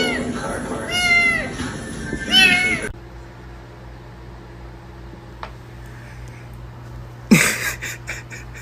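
A nervous, protective cat meows on a balcony near a baby, two or three drawn-out, rising-and-falling meows close up in the first three seconds, followed by quieter room noise and a brief sharp cry near the end.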